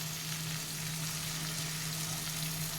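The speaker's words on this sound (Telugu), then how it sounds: "సిమ్లోనే పెట్టుకోండి చిన్నగా కదిలిస్తాం" Fish curry simmers quietly in a pan on low heat, a soft steady bubbling sizzle holding at one even level throughout, with no voices.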